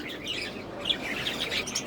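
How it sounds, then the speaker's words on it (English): Budgerigar birds chirping indoors, soft continuous twittering with a few brighter chirps over a steady background hiss. "budgerigar, my baby budgerigar and my budgerigar birds part 2"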